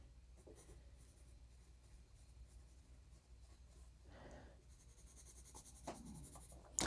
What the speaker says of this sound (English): A modern Ticonderoga. See how the graphite compares.